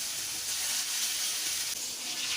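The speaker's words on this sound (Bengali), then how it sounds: "এরপরে আমি একটা পাত্র বসিয়ে তেল গরম করে মাছ দিয়ে দিচ্ছি।" Pieces of rohu fish coated in salt, chili powder and turmeric fry in hot oil in a pan. They give a loud, steady, close hiss of sizzling with no pauses and no voices.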